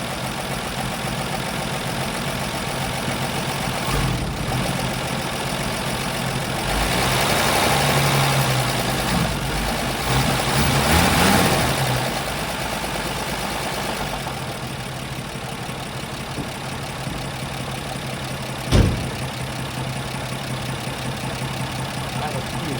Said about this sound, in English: it's been running for 6 minutes. It wants to choke itself out.